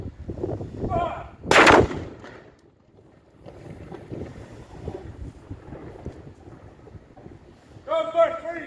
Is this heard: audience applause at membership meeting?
no